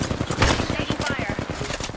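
Rapid automatic gunfire in Apex Legends, a fast rhythmic stream of close, punchy shots running for two seconds, with brief game voice callouts mixed in.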